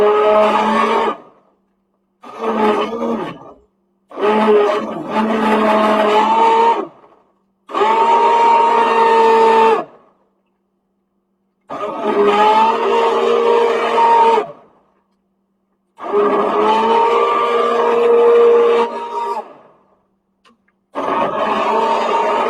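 A blender whirs through cauliflower kale soup in repeated loud bursts of a few seconds each, separated by short silences, with a steady motor drone and no talking.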